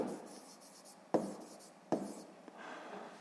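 A pen writing numbers on paper during a sixth-grade maths exercise, heard as close, soft scratching strokes with a few sharper taps, quiet and alone without speech.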